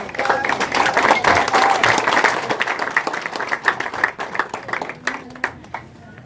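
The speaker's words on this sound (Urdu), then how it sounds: "تمام افراد کھڑے ہو کر اپنی تالیوں کی گونج میں ان کا" A standing audience at a political speech event gives a sustained burst of clapping to welcome a candidate, the applause fading as a voice begins speaking over it.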